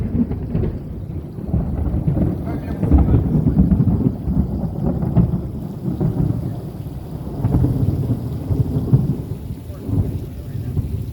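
Thunder rumbles continuously through a rainy thunderstorm, a deep, rolling roar that swells and fades across the whole stretch with rain noise underneath and no talking.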